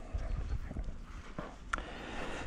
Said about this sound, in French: Bonjour les chevaux.